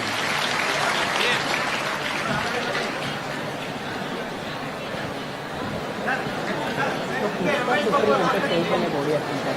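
Loud, dense audience applause for H. D. Deve Gowda at a public gathering, sustained without a break, with crowd chatter mixed through it.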